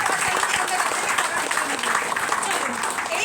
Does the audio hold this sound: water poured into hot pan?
no